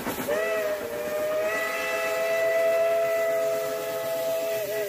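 A small steam-train whistle blows one long, steady, hooting tone with a breathy hiss, loud and close, holding for several seconds.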